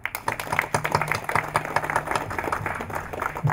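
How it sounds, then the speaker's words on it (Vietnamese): An audience at a temple inauguration ceremony in Seattle gives steady, brisk applause. The clapping is close and continuous for a few seconds. "xin quý vị cho một tràng pháo tay"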